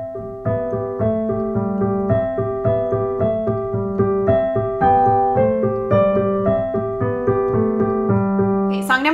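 An easy Christmas song played on piano with the sustain pedal, notes ringing smoothly into each other in an even, unhurried rhythm, heard alone and close.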